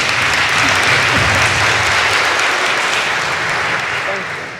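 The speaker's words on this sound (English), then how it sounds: "I want to just pause and give a round of applause for the support we got for that." Dense, steady applause from an audience gathered in a chapel fills the space, broad and continuous before tapering slightly at the end, with faint voices mixed in.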